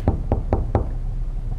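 Four heavy, evenly spaced knocks and rattles of a locked door being tried in a horror video game, close and loud, with no talking.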